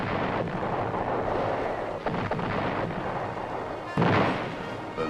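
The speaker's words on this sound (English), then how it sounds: "The North Vietnamese launch a massive artillery attack." Massive North Vietnamese artillery barrage during the siege of Khe Sanh, South Vietnam: a continuous loud roar of distant shelling with heavier booming impacts near the two- and four-second marks.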